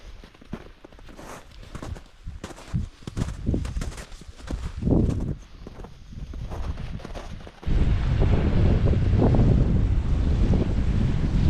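Gusty wind buffets the microphone on Iceland's Laugavegur Trail in cold, rainy weather, with crunching footsteps underneath; the roar steps up to a loud, steady blast in the last few seconds.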